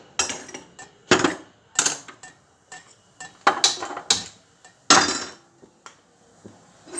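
An iron griddle (tava) is handled and set down to heat, giving a series of sharp metallic clanks and knocks, close and loud, spaced irregularly with short quiet gaps between.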